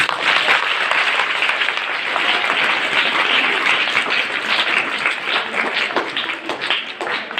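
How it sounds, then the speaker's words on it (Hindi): Children clapping at a speech for Ambedkar Jayanti, a dense, steady burst of applause that stays loud for several seconds, tapering slightly near the end. "बच्चों ताली बजाइए"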